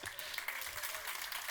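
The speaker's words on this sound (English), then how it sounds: "Give us a little wave and a cheer if you're out there." An audience at the INNOVEIT 2019 conference opening claps and cheers, a fairly faint, steady patter of applause that goes on without pause while someone talks over it.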